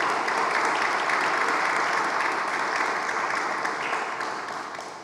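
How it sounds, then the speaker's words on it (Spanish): A dense, sustained burst of applause fills a room at an exhibition opening, loud and even throughout, then eases slightly at the end. "un fuerte aplauso para el legado del profesor Juan Bosch"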